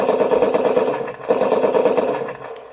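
A 1/16 scale RC M4A1 tank model plays its machine gun sound effect, a loud electronic rattling burst with a short break partway through, close and harsh.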